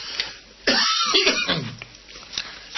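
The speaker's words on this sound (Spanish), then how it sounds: "Tengo un gran día de tos, mucha tos, sepan disculpar" A single person coughs a few times in one harsh, close burst, then clears their throat, with quiet room noise after.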